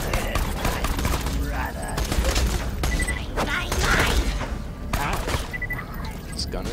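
Rapid gunfire in the video game Borderlands 2, bursts of sharp shots with mechanical clicks and thuds, loud and close, while a person talks over the action.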